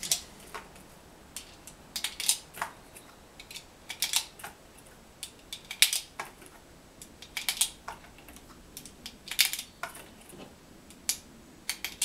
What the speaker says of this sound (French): Donc je vais charger à 10 coups.